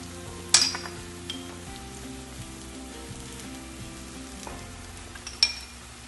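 Chilies hitting a hot pan while cooking red lentil burgers: a quiet, steady sizzle with stirring, broken by two sharp clinks of utensil against pan.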